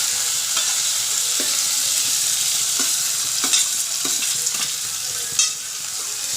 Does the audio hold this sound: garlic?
yes